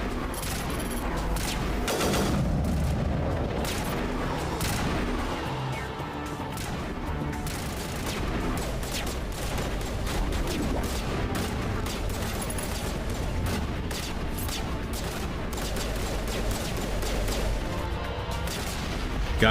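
Video game gunfire in Mass Effect: Legendary Edition, dense and continuous bursts of shots and impacts mixed with mechanical clatter, loud throughout, with a voice talking faintly underneath.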